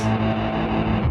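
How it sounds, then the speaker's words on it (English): Distorted electric guitar through a fuzz effect on a BOSS GT-1000 multi-effects unit, a dense buzzing sustained tone holding steadily at close range for about a second with no talk. "and turn on a fuzz"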